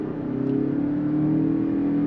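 Toyota Crown Signia hybrid with a CVT accelerating at full throttle, heard from inside the cabin as a steady, droning engine hum that holds a near-constant pitch and grows slightly louder.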